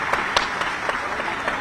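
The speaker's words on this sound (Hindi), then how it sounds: "जोरदार ताली बजाकर" Audience applause welcoming Madhya Pradesh chief minister Shivraj Singh Chauhan at a Govardhan Puja event, a steady wash of clapping from a crowd with a few sharper claps standing out over about a second and a half.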